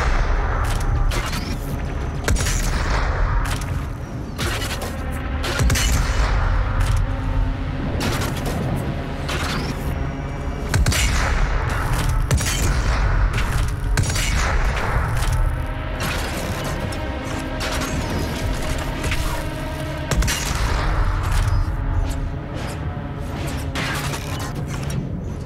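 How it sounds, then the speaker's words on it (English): Enemies firing on the player in Doom Eternal, a relentless loud barrage of gunfire, impacts and blasts layered over heavy game music and machinery, dense and continuous throughout. "They're shooting at me now."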